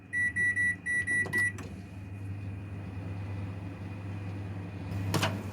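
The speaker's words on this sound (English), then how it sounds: "I'm just going to cover these up and microwave them." A microwave oven heating covered green beans: a series of keypad beeps, then a steady low hum from the running oven, with a clunk near the end.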